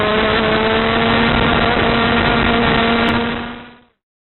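A racing kart engine drones loud and steady as it accelerates out of a corner on the Badger Kart Club national circuit in Dousman, Wisconsin, holding a constant buzzing tone before cutting off and fading at the end.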